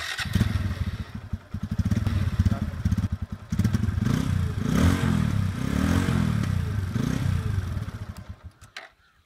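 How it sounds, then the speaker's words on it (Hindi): A TVS Apache RTR 160 motorcycle engine runs up close, with throttle blips and a steady, throbbing exhaust note that rises and holds before cutting off near the end. "इस बाइक का साउंड भी बहुत अच्छा है"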